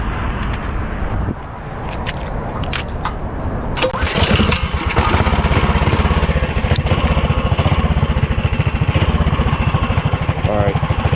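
A 420cc mini bike engine fitted with a small muffler starts up and runs loudly close by, settling into a steady, rapid pulsing idle with no talk over it.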